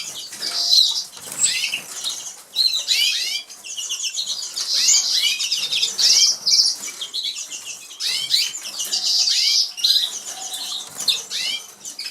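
Canaries in an aluminium aviary flight cage make repeated bursts of wing flapping mixed with bright chirps and tweets, close and fairly loud, with short calls scattered throughout.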